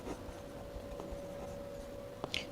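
A pen writes out the answer to a simple interest math problem by hand on paper, giving faint, soft scratching strokes with a brief firmer scrape near the end and no talking.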